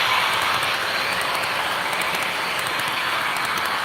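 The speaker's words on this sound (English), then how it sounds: "Most people like to run their trains fast, but I like to run them just like they do out here." An HO scale model train runs on a layout with a steady, continuous whirring rumble and hiss that holds an even level throughout, close and alone with no talk.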